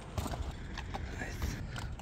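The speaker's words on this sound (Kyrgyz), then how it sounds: "мына ушул чекир ат чыгат достор" A five-year-old dappled Karabair–European crossbred horse, saddled, clip-clops with a few sharp hoof knocks on hard ground amid outdoor noise and a low voice.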